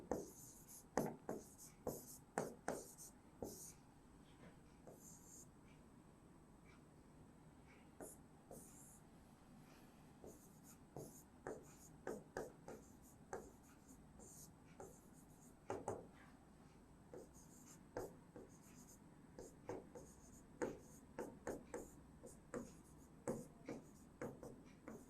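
Chalk or marker strokes on a board during a Class 12 chemistry lesson, a steady run of short, irregular scratches and taps across the whole stretch, fairly faint, with only occasional light voice in the background.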